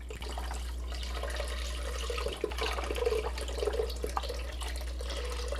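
Organic broth pours steadily into a pot in a continuous liquid splash over a low hum, close and moderately loud, with no talking.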